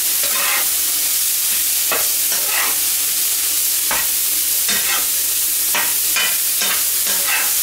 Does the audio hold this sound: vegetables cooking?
yes